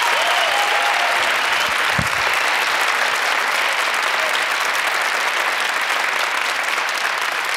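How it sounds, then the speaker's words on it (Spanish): A television studio audience gives a dense, sustained wave of applause for the programme's art team, loud and continuous throughout, with a faint voice and one low thump early on. "Un aplauso para ellos, por favor."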